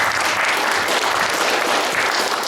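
An audience applauds at a book promotion evening: dense, sustained clapping from a sizable crowd, loud and even throughout.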